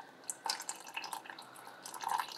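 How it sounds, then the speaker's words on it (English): A small measured amount of water poured into a sourdough starter flour mixture in a jar, heard as a quiet, close trickle broken by light drips and taps. "And then 50 grams of water."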